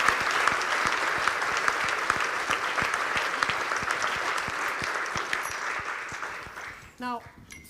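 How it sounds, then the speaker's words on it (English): An audience at a human rights talk claps for a volunteer after a staged demonstration. The applause is sustained and fairly distant, tapers off near the end, and a brief voice follows. "Can we give our torture victim a round of applause?"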